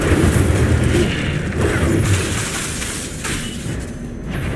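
An Incendio fire spell cast in Hogwarts Legacy: a loud, roaring fiery whoosh and boom that swells and rumbles across the stretch, fading slightly, with a second burst of flame later on.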